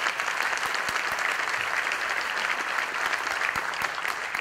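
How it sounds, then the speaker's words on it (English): A breakfast-event audience gives a round of applause, a steady, moderately distant patter of many hands clapping evenly throughout, with no voices on top. "So if y'all would give all those folks a round of applause"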